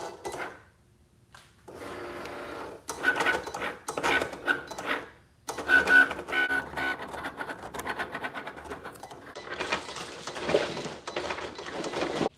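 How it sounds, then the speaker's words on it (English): A Cricut Explore Air 2 cutting machine cutting a shirt design, a steady mechanical whirring and scraping with bursts and brief pauses as the carriage moves, fairly close and heard alone. "the machine will automatically start cutting on its own"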